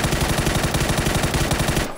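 Rapid automatic gunfire spraying in PUBG, loud and close, a dense even burst of shots that cuts off abruptly near the end.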